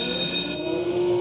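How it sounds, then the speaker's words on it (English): An electronic bell rings continuously to start a carnival water racer game at an amusement park in Centreville, Canada, loud and steady with a brief change in pitch partway through. "At the sound of the bell."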